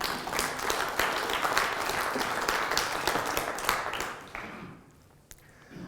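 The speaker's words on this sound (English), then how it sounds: "Can we give them a round of applause" Audience applause in a lecture hall after a call to honour emergency service workers, dense steady clapping that holds for several seconds, then thins and fades out near the end.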